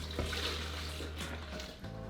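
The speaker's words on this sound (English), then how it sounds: "to that we're going to add 4 cups of water" Four cups of water poured into a pot of chili sauce ingredients with spices, a steady close splashing pour running for about two seconds.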